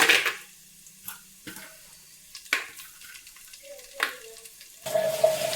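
Cashews and biryani spices hit hot oil in a pan, giving a soft sizzle broken by sharp clatters and stirring scrapes, with a steadier frying hiss near the end.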